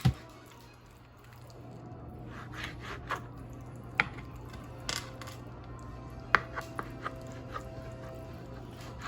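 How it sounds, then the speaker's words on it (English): A knife cuts salmon strips into chunks on a board, quiet with a few soft taps and scraping strokes scattered over a low steady hum. "we're gonna cut the strips to make them into chunks"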